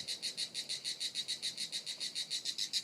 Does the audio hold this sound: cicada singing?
yes